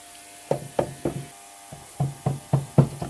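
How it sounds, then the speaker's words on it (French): Repeated knocks tapping on an engine part to free a stuck gasket during engine teardown, about eight sharp close taps in two uneven bursts, no talking. "on va tapoter pour décoller le joint"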